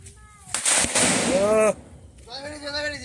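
A firecracker bursts in water with one loud, sharp crack followed by a splashy burst, set among voices talking before and after it.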